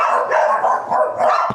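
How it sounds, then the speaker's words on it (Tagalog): Several dogs bark loudly nearby, a quick burst of overlapping, rhythmic barks and yips that dips briefly and then picks up again. "Ang ingay ng mga aso."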